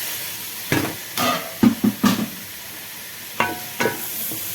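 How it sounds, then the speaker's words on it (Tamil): Tomatoes drop into a pan of sautéing onions and ground paste for a country chicken rasam, setting off several short bursts of close, loud sizzling and stirring with quieter gaps between. "இப்போது தக்காளி போடுறோம்."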